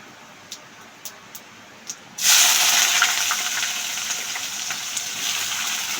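Onions drop into hot oil already seasoned with bay leaves, dried red chillies and whole cumin, bursting into a loud, close sizzle that settles into steady frying; a few light clicks come before it.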